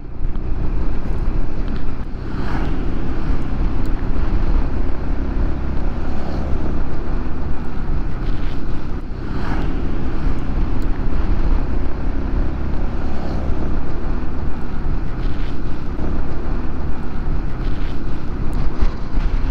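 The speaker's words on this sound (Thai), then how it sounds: "โอ้ลมแรงดีจริงๆวันนี" Steady, loud rushing wind buffets the microphone throughout, a continuous low roar with occasional gusts and no talk.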